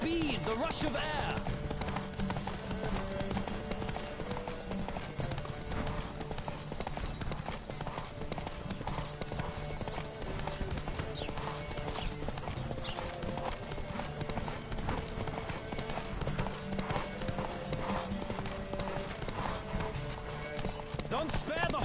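Horses galloping in a race in the Witcher video game, a steady fast clip-clop of hooves running throughout under game music, with voices and occasional whinnies.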